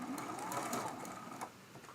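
A sewing machine hums quickly through a short seam on a Dresden Plate quilt block made from charm pack fabric, a close, steady mechanical whir lasting about two seconds.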